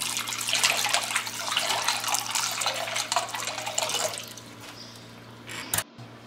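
Falooda noodle dough squeezed into cold water makes continuous close splashing and trickling, easing off after about four seconds, with a brief knock near the end.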